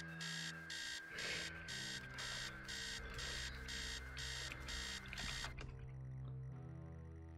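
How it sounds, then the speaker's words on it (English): An alarm clock blares upstairs in the horror game Stories Untold, a loud, rapid pulsing beep repeating about ten times before it stops, leaving a low ambient drone. "Upstairs, the sound of an alarm clock is blaring."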